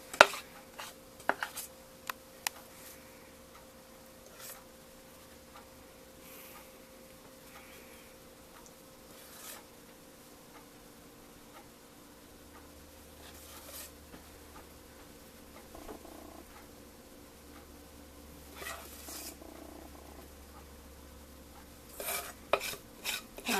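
A spoon scrapes caramel icing out of a pot in a quiet room, making faint, sparse scrapes and occasional sharp metallic clinks against the pot, spread over more than twenty seconds with no talking.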